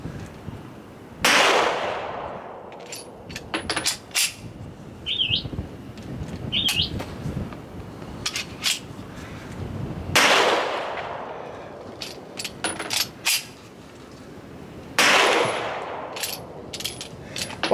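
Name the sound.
Smith & Wesson M&P 2.0 Metal pistol firing hard-primer ammo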